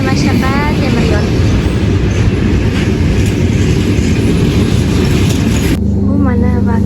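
Train passing on railway tracks near a station on the Tashkent line: a loud, continuous roar of rolling wagons close by, with a brief sharp change near the end, voices faintly mixed in.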